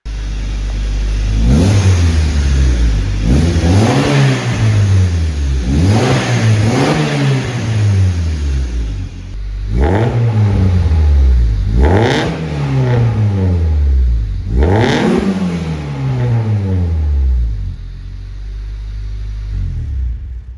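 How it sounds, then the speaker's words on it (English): A turbocharged car with aftermarket exhaust, tuned 1000cc injectors and an anti-lag setup revs hard in repeated bursts, each climbing then falling back to a low, fairly muted idle rumble, about six pulls in quick succession. "Here's a little sound clip of what it sounds like with the exhaust in the turbo."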